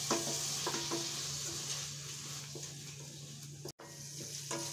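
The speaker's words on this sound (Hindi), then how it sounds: "अब इसमें हम बारीक कटा हुआ टमाटर डालेंगे और हिलाते रहेंगे।" Finely chopped tomatoes cook on low heat in a pan for Kerala-style fish curry, a quiet steady sizzle with periodic stirring taps and a low hum beneath, one brief dropout.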